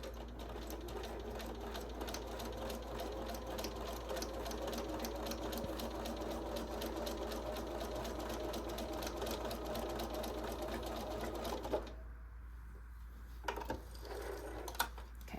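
A sewing machine stitching an exposed zipper runs in a fast, steady mechanical chatter for most of the stretch, then stops abruptly, leaving a low hum and a few soft clicks.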